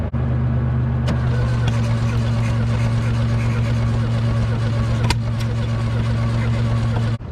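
The engine of a 1970 VW Beetle cranks and runs after a valve and timing adjustment, a steady droning hum with a strong low buzz throughout, ending abruptly, and a voice comes in faintly.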